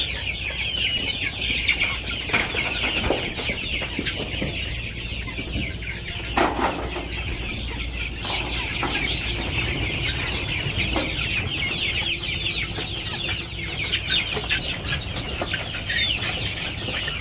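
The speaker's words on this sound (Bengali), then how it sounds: "এই যে মুরগিটা খাবার দিতে গেছে" Hens cluck softly at feeding time in a village poultry house, with scattered short clucks and some wing flapping over a steady, fairly quiet farmyard background.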